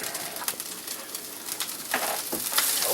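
Hash browns fry in a pan for an omelet, a steady crackling sizzle with brighter spitting bursts toward the end, close and moderately loud with no talking.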